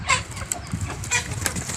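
Laying hens clucking softly nearby with a few brief wing flaps, short and scattered.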